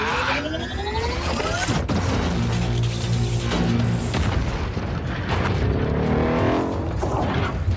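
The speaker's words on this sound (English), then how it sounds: "Plasma cannon!" Sci-fi plasma cannon blast from a film action scene, a loud booming explosive burst with rumbling aftermath and sweeping tonal whooshes, dense and sustained throughout.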